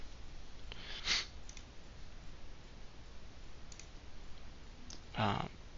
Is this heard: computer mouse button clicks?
yes